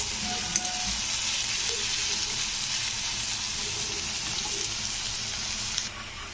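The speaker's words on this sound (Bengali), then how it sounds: "তো পেঁয়াজটাকে কিন্তু একটু লাল করে ভাজতে হবে।" Two medium onions frying in a pan until reddish for a soybean curry, a steady soft sizzle with faint crackles and occasional stirring clinks, alone without talk.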